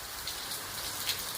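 A light rain shower falls steadily in open fields, a soft continuous hiss of drops with a couple of slightly louder patters, faint and even throughout.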